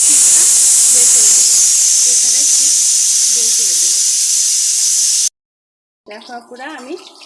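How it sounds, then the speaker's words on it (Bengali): Steam hisses loudly and steadily as pressure is released from a pressure cooker during papaya stir-fry cooking, a broad continuous rush lasting about five seconds before cutting off abruptly, with a voice speaking afterward. "প্রেসারে পিস বের করে দেবো"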